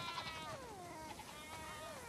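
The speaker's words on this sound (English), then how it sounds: "We definitely have way too many sheep." Sheep bleating in the video game The Last of Us Part II, a few wavering, overlapping bleats from a flock over a steady ambient background, with no talking.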